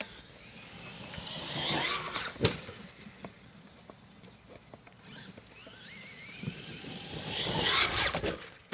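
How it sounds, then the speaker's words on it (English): A Traxxas Maxx RC truck fitted with new GPM drive shafts is driven hard: its motor whine swells loudly near the start and again toward the end, with a sharp thump in between. "Back to beating the hell out of the Traxxas Maxx here."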